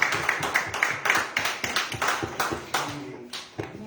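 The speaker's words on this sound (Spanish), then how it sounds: "Un aplauso fuerte para nuestro gran Dios" A church congregation claps in a quick, uneven rhythm, each sharp hand clap standing out close by. The clapping holds steady and then thins toward the end.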